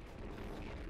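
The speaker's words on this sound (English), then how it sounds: "that firework move is pretty good" A firework attack explodes in Spyro 3, a dense, loud burst of game noise filling the whole short moment without pause.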